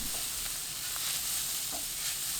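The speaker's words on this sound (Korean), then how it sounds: "3분 후 고구마 넣고 센 불로 30초 볶습니다." Sweet potatoes and carrots stir-fried over high heat in a pan, a steady close sizzle with a few faint scrapes of stirring, no voices.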